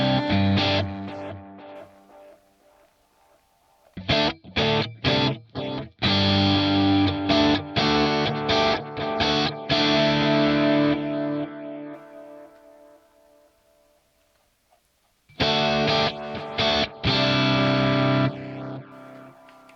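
Electric guitar run through a Line 6 Helix with clipping added to the delay and chorus, giving distorted, echoing chords played in bursts, ringing out and fading, then resuming near the end.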